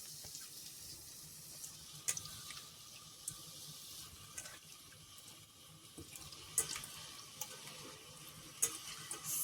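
Mixed seafood fish dropped into frying masala in a pan for fish curry, a faint, steady sizzle close by with scattered small clicks and pops throughout.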